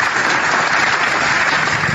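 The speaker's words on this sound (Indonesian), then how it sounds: "Saya harus tepuk tangan dulu." Hand clapping comes in a loud, dense, continuous burst that sounds like sustained applause filling the whole stretch, close and without pauses.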